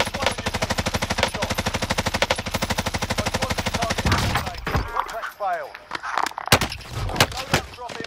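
Sustained automatic gunfire in Call of Duty: Modern Warfare, a long rapid stream of close, loud shots that stops abruptly, followed by scattered effects and a few sharp bangs with voices talking.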